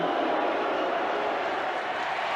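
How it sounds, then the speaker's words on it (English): A rugby league crowd boos in a large stadium, a steady, distant, sustained roar of massed voices with no break or rise over its length. "Crowd starting to boo."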